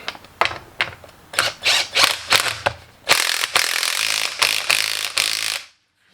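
A hand ratchet clicks in quick repeated bursts while tightening a lowering spring on a car. The sharp metallic pulls are close and loud, speeding into a dense continuous run before stopping abruptly.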